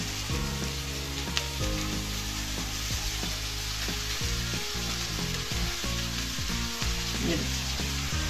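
Poha tumbles into a hot pan and gets stirred, steady sizzling under repeated scraping strokes of a spoon, close and continuous throughout.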